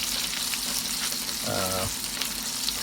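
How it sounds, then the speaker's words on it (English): Shrimp frying in hot oil in a pan for a devilled prawn dish, a steady bright sizzle throughout with a brief low hum partway through, close and moderate in level. "This is anyway oil cooking it, so I would let it cook for a couple of more minutes"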